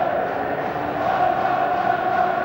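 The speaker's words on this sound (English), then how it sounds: "these fans applauding him and the other players this afternoon" Rangers football fans at a stadium on the final day of the 2005 title-winning season, a dense, steady wash of crowd noise with applause and cheering rolling on without a break, loud and close, no distinct voices standing out.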